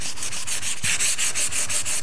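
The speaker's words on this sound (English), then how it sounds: "As we start to sand away" Close, steady sanding of milk-painted wooden furniture with a blue paint layer, a continuous broadband rasp pulsing in rapid regular strokes with no talk.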